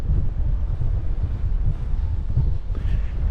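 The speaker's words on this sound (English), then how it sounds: "wind's picking up" Strong wind blows through an older street in Tirana, buffeting the microphone with a constant low, rumbling roar that stays loud throughout with no pauses.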